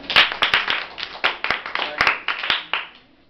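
Children at a gurukul in Kurukshetra clap their hands in a quick, uneven series of about a dozen sharp, close claps that stop after roughly three seconds.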